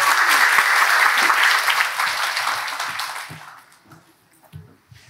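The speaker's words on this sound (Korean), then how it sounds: "감사하는 마음을 담아서 박수로 크게 환영하겠습니다" Church congregation at a closing worship service claps loudly to welcome a pastor, the applause staying full for about three seconds before fading into scattered claps and quiet.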